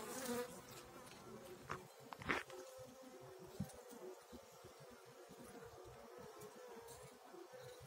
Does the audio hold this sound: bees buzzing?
yes